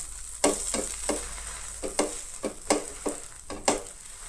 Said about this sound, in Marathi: पॅनान हांव इल्लेशें बटर घालतलें. तेजेर घालतलें पाव